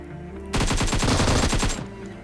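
A rapid burst of automatic gunfire in a third-person shooter game, loud and sustained for over a second, then it cuts off.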